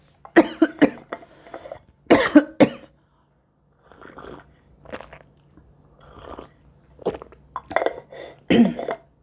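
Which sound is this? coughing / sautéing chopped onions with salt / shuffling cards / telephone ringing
coughing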